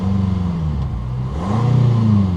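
A 1977 Ford LTD engine with an exhaust leak revs steadily up close, a loud, rough, throbbing drone that dips slightly and then climbs again.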